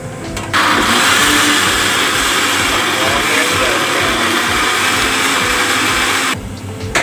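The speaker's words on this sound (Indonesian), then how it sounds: "Selanjutnya kita blender." A blender grinding soaked soybeans roars loudly and steadily for around six seconds, a dense whirring grind that starts abruptly and cuts off near the end.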